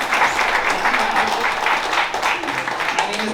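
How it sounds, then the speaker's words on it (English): A comedy club audience gives the comedian a round of applause, a dense, steady wash of close clapping that continues without pause for a few seconds. "Give him a round of applause too."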